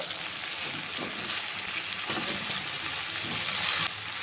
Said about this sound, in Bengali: এখন কেটে রাখা ঝিঙেটা দিয়ে দেব